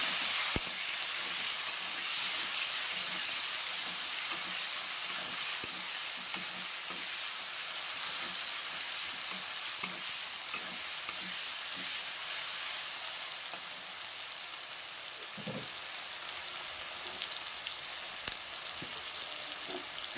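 Tomatoes sizzle and fry steadily in a hot pan, a continuous broad hiss with occasional pops and stirring clinks, close and alone without talk.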